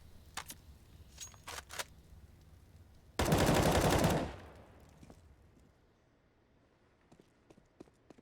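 A long, loud burst of automatic gunfire in CS:GO lasts about a second, set against scattered shorter shots and footstep clicks in a quiet competitive match.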